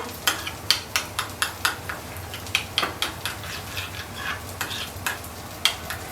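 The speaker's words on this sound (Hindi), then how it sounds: "सबको अच्छे से मिक्स करो" Sauce ingredients with masala and salt being stirred together in a pan: rhythmic spoon scrapes repeat every half second or so over a faint background, close and clear, without any talking.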